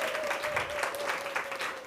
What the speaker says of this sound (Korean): 격려와 환영의 박수를 좀 부탁드려요